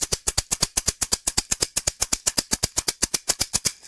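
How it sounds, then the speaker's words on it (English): A Shonga tunable shaker shaken in a steady, fast rhythm, with about eight crisp, bright hits per second, close and loud and heard alone. "here's what the shaker sounds like"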